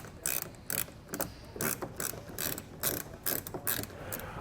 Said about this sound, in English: And then we can go back and tighten down our bolts.